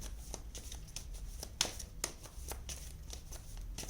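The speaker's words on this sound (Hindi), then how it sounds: "कार्ड्स निकालते हैं" Tarot cards shuffled and drawn by hand, a continuous close papery riffling with quick card snaps throughout, no talk.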